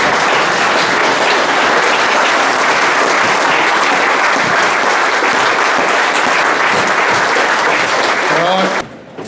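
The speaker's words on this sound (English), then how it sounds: "give them a big round of applause" Loud, sustained applause from a large conference audience, steady clapping throughout that cuts off abruptly near the end.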